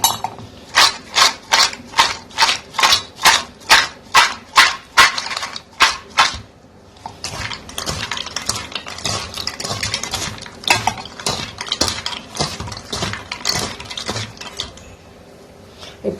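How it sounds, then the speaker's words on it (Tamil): A spoon mixing sprout chaat in a bowl, a regular series of scraping, clinking strokes that turns into faster, busier stirring, close and without talk. "இப்போ ஒரு ஸ்பூனில் போட்டு இது எல்லாத்தையும் வந்து நான் மிக்ஸ் பண்ணுறேன்"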